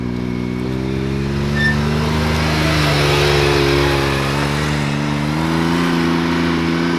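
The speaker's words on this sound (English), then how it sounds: "Mikey, go ahead and take it around the track one time." A Can-Am Maverick X3 RC car drives around a track, its electric motor giving a loud, steady whine that rises and falls gently in pitch as it circles, with no voices.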